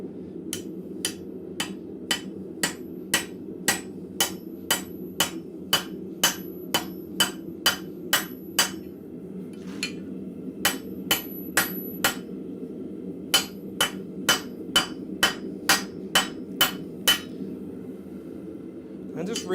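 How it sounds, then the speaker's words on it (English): A blacksmith's rounding hammer strikes hot metal with its flat face, ringing out in sharp, evenly spaced clanks in several bursts, with a few short pauses between them, over a low hum of forge noise. "I forgot to flip my round peen, my rounding hammer over, so I was hitting it with the flat"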